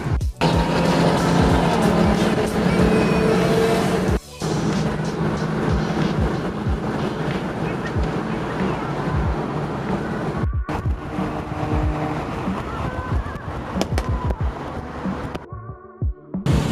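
BMW 335i and BMW M car engines rumble and roar past on a road, with sharp popping backfires breaking through the steady traffic noise, briefly cutting out twice.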